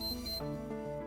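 A single short electronic beep from an EnteraLite Infinity enteral feeding pump as its Run Pause button is pressed, quiet and close.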